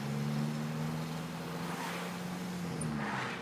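Cummins R2.8 turbo-diesel engine in a Ford Bronco crawling through the gears, a steady low engine hum with a slowly falling pitch, moderately close and continuous.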